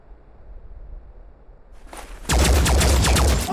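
Rapid bursts of gunfire in the turn-based strategy game Phoenix Point ring out loud and close after a brief quiet buildup, a dense rattling volley of repeated shots.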